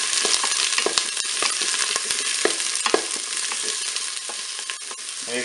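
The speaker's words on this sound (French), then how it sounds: "je vais faire revenir mes courgettes" Sliced courgettes sizzle and crackle in olive oil inside a Cookeo multicooker, a steady close frying hiss with scattered pops and occasional stirring clicks, no voices.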